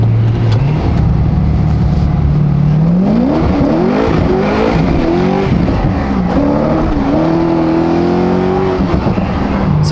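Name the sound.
Corvette engine with new exhaust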